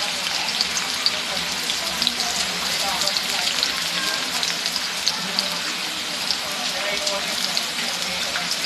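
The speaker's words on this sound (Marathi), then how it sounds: "भजीच्या कढईमध्ये कांदा टाकून घेते" Chopped onions go into hot oil in a kadai still used for frying bhaji, giving a steady, close, hissing sizzle that runs unbroken with fine crackling throughout.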